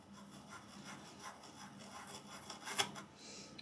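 A Blue Spruce Optima chisel plane shaves wood, making soft repeated rasping strokes up close at low volume, with one sharper scrape near the end.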